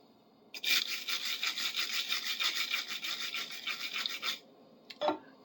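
Brushing across the worn metal surfaces of a big adjustable wrench being restored, a close, loud, continuous scratchy rasp of rapid back-and-forth strokes lasting several seconds, followed by a brief clack.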